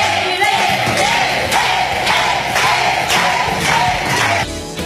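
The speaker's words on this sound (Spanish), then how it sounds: "un aplauso, compañero" A class cheers and claps for a student in a lively classroom lesson, a loud, continuous crowd roar with yells and whoops carrying steadily for several seconds before easing off.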